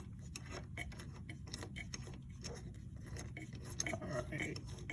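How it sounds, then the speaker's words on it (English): Hand wrench ratcheting out a rear brake caliper bolt on an Audi, a run of quick close metallic clicks and ticks with faint clinks over a low background hum. "You can see I'm removing the second bolt right here."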